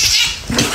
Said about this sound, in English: Get your kitty, Jasper.